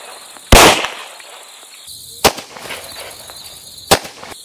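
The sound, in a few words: Glock pistol shots at a target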